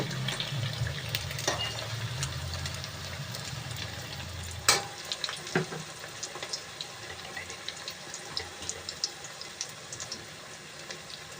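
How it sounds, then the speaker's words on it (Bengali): Food frying in a pan over high flame, a steady broadband sizzle with scattered crackles, a sharp clatter near the middle, then a quieter, thinner hiss to the end; no talking. "হাই ফ্লেমে ভাজতে হবে।"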